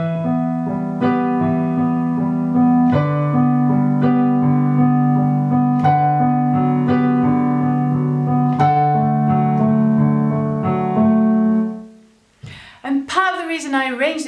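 A simplified piano arrangement of a piece from Amelie plays near and clear at a moderate pace, steady chords and melody for about twelve seconds, then the music stops and a brief voice and rustle follow.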